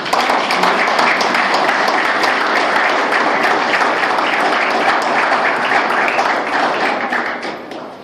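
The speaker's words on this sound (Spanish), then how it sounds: "Un aplauso al profesor." Audience applause for a professor at a formal panel event in Dominican Republic, a loud sustained burst of many hands clapping for about eight seconds, tapering off at the end.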